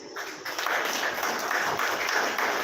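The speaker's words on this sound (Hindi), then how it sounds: "मैं चाहता हूँ कि उन सभी के लिए आप सभी लोग जोरदार ताली बजाएं" Audience clapping at a gathering, a fairly soft but continuous wash of many hands that stays even across the brief stretch.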